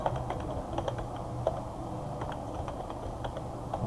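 Steady clatter of keys as a code comment is typed on a computer keyboard, quick irregular taps in a continuous run, close and clear with no voices.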